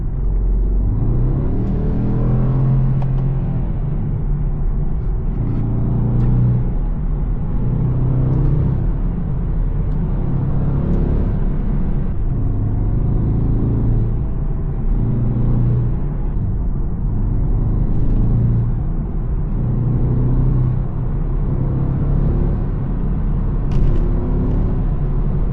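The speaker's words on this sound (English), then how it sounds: "I'm gonna give it gas on and off, and you guys tell me if you can hear the exhaust" Porsche Cayenne Turbo with a secondary catalytic converter bypass, its exhaust rumbling steadily with repeated on-and-off throttle blips, loud and close throughout, with no talking.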